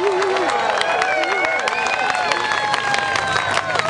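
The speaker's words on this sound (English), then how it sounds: "Let's give this fine pastor a round of applause. Come on, make some noise." A crowd at a rally applauds and cheers continuously for a pastor, with whoops and shouts rising over steady clapping, loud and close throughout.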